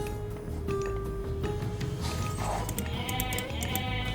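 Goats bleating in the video game Age of Mythology Retold, several short wavering bleats scattered over a busy backdrop of game sounds and clicks.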